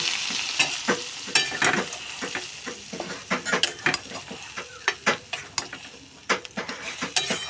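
Cauliflower leaf paste frying in oil in a wok with a dried red chilli and nigella seeds, a steady hiss under repeated sharp scraping stir strokes, close and fairly loud.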